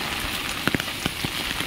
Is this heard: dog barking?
no